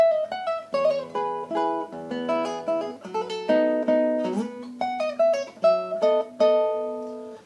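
Solo classical guitar plays the opening of Tárrega's Gran Vals, the melody known as the Nokia tune, with clear plucked notes in a lilting waltz rhythm, close and moderately loud with no voices.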